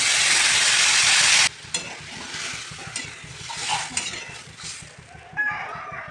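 Water poured into frying vegetables in a pan gives a loud, bright burst of hissing steam for about a second and a half, then settles into a softer sizzle with occasional clinks of a utensil.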